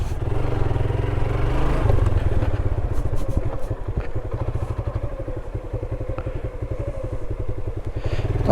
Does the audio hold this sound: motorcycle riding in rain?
yes